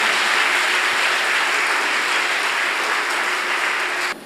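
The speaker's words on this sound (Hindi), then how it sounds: "जोरदार ताली बजाकर प्रभु को धन्यवाद देंगे।" A congregation claps together at a prayer meeting to thank God, giving a sustained, even wash of applause that holds steady for several seconds before cutting off abruptly near the end.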